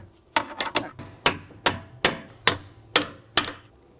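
Hammer striking a punch to drive out a control arm bolt on an Audi B9 A4 front suspension: about ten sharp metallic blows, irregular at first, then steady, ringing and close.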